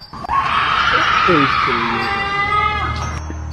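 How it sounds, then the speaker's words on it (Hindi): Screaming and shouting in a Hindi cartoon about Gulli and Bulli. Loud, continuous and wavering, running through most of the stretch, with strained vocal cries. "तभी वहाँ पर किसी की चीखने चिल्लाने की आवाज आने लगती है।"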